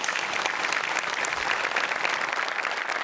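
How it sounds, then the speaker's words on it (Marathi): Dense, steady applause from a studio audience at a Marathi comedy sketch show, a continuous wash of many hands clapping close by for the full three seconds, with no talking over it. "त्यांच्याकरता आपण एकदा टाळ्या वाजवूया."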